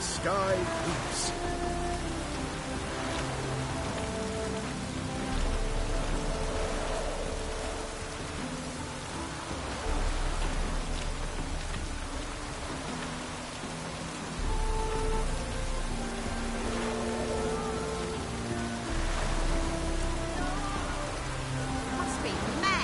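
Continuous rainfall in the video game The Witcher 3 keeps up a dense, even patter for the whole stretch, with soft in-game voices and ambient tones blended underneath.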